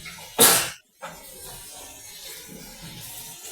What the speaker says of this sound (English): I'm becoming allergic to spices, and I don't understand that nowadays I sneeze.